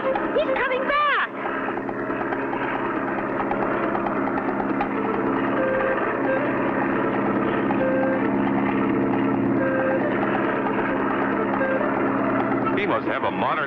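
An old German World War I plane in a cartoon drones steadily overhead with a continuous engine roar lasting throughout, loud and close, with a brief burst of other sound at the start and end.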